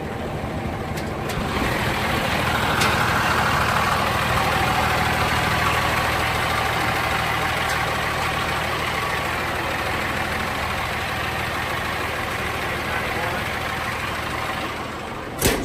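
A 1998 Caterpillar 140H motor grader's diesel engine running at a steady idle, a continuous low rumble with no voices.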